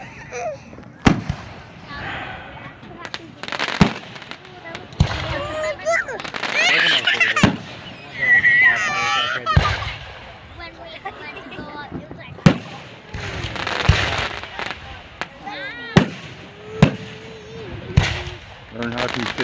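Fireworks explode at a 2016 display in Stockton, Illinois, as a string of sharp cracking bangs at irregular intervals with softer crackle between them, while people talk nearby.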